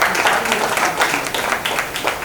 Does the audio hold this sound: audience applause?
yes